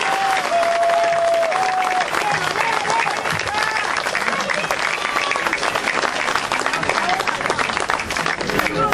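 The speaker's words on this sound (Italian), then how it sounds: "un bel applauso a Elisa D'Aprile." A political rally audience in Vernole claps enthusiastically for a candidate, dense continuous applause lasting several seconds at steady volume, with a few voices and calls mixed into the crowd noise.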